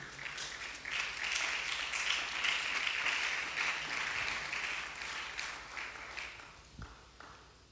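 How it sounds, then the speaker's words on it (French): A church congregation applauds in a steady, sustained wash of clapping that holds for several seconds and then slowly thins out, with no voices over it. "Est-ce qu'on peut acclamer la parole du Seigneur?"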